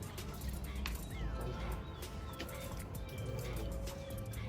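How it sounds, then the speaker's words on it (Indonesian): Caged canaries and turtle doves kept by a poultry breeder call faintly through steady background noise, with soft repeated cooing and scattered high chirps and tweets. "peternak unggas, yaitu burung kenari dan burung puter"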